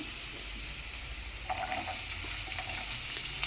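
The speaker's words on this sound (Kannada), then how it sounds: "ಜೀರಿಗೆ ಬೆಳ್ಳುಳ್ಳಿ ಫ್ರೈ ಆಗ್ತಾ ಇದೆ ಜೊತೆಲಿ ಈರುಳ್ಳಿ ಹಾಕ್ಕೊಳ್ಳೋಣ" Cumin and garlic frying in a pan as onion goes in, a steady close sizzle that grows busier and crackles halfway through, with no talking.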